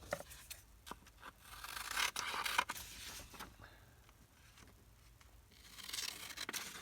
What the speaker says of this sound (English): I'm going to go ahead and cut this across.